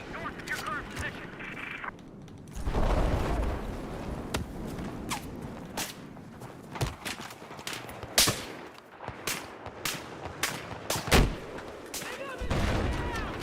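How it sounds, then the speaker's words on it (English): Gunfire and explosive bursts from Battlefield 6 multiplayer combat, with an RPG rocket launched at a hostile tank, come as loud, dense, irregular blasts and cracks with a sustained rumble of battle noise. "The RPG sniper will always live on! Yes! Yes! I fucking sniped him with a rocket!"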